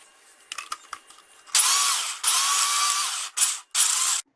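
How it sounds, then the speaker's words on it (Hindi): Homemade cream cheese with a little salt whirring in a blender, several loud high-pitched pulses that start and stop abruptly after a few faint clicks of handling. "और इसे हम ब्लेंड कर लेंगे।"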